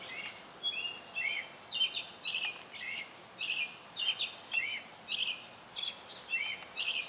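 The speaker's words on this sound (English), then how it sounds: "the birds are loving this rain too" Birds sing in a shade garden during rain, with repeated short chirps and trills spread across the clip against a soft constant hiss of rainfall, fairly faint and distant, no talking.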